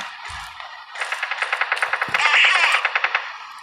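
An M4A1 rifle firing at close range in the video game Strike Team Online: a rapid, evenly spaced automatic string of about fifteen sharp shots, close and loud, with no talking.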